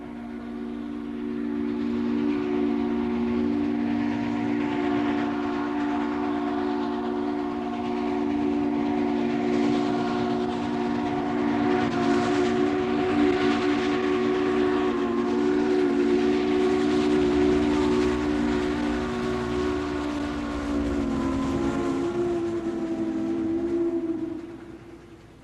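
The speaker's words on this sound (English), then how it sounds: "The train backs up, cameras are ready." Steam excursion train backing up while its whistle sounds in long, loud, sustained chords, joined by a steady rumble of the locomotive and cars running continuously throughout.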